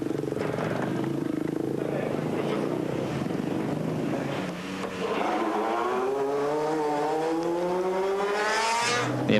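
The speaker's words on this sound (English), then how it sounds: "Kenjiro Shinazuka bringing his Mitsubishi in towards the end of the day, having completed that small stage" Mitsubishi rally car at the 1998 Paris–Dakar Rally, coming in at the end of a stage: the engine whines and drones steadily, pitch climbing as it accelerates through gears, loud and close, with a commentator talking over it.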